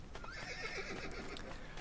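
Horse whinnying in the video game Assassin's Creed 2, a short quavering neigh with a few hoof clip-clops, moderately quiet against background game ambience.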